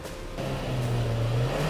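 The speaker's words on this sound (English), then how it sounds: "On starting, you can definitely feel that this is a refined unit" A Hyundai Alcazar 1.5 turbo petrol engine runs with a smooth, steady hum that swells slightly as it settles, heard close up and continuously with no talking.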